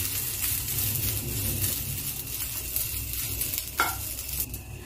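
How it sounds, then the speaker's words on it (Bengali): Broken wheat (dalia) fries in a pan with a soft, steady sizzle, stirred now and then with a few light scrapes and taps of a spoon, no voices present. "খুব বেশি ভাজা করব না আমি ডালিয়াটা ভাজা হয়ে গিয়েছে।"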